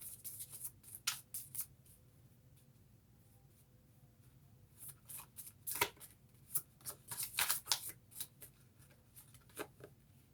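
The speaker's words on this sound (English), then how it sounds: "It's hard to shuffle when there's just a few cards." Tarot cards being shuffled by hand with only a few cards left in the deck, giving soft, scattered riffles and flicks in irregular bursts, fairly close and quiet, with no talking.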